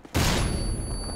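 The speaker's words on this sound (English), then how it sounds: "Throwing a stun grenade." A stun grenade going off in a Call of Duty match: sudden sharp loud blast after a brief quiet, followed by a bright sustained ringing tone and lingering rumble, no voices.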